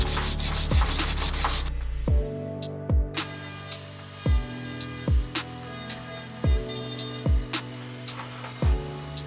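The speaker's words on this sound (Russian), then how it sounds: "Мы запаяли замок, теперь наша задача идеально отшкурить." A soldered clasp on a heavy 335-gram gold Cuban-link chain is sanded with 1000-grit sandpaper, giving steady rasping strokes in an even rhythm about once a second, close and continuous.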